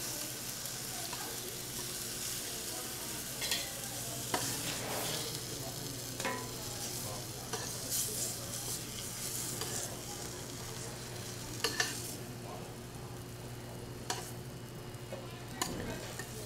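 Chicken pieces returned to a hot pan for chicken cacciatore sizzle in a constant, soft frying hiss, with occasional faint clicks and scrapes over a low background hum, no voices.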